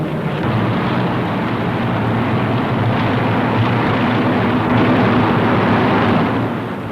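Avro Lancaster bomber engines in flight during a wartime bombing raid: a steady, droning multi-engine roar, loud and constant for the whole stretch, swelling slightly near the end before easing off.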